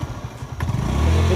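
Motorcycle on an offroad hill ride in the Kalvarayan Hills, its engine rumbling and building in loudness with clattering and scraping from the rough track, close to the microphone.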